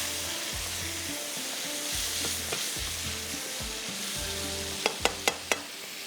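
Meat and vegetables frying over a high flame, a constant close sizzle with some stirring, ending in four sharp metallic taps, with no voices and a faint low hum throughout.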